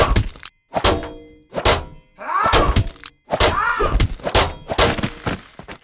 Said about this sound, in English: On this first one, I've got Metal Shield Sword Deflects.